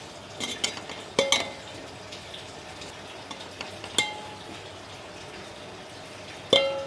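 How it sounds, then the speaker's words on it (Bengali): A spoon scrapes and taps against a ghee-greased pot as cooked rice is spread out for sweet zarda pulao, a few sharp metallic clinks between quieter stirring sounds. "ভাতটা দিয়ে ভালো করে চারিদিকে বিছিয়ে দিচ্ছি"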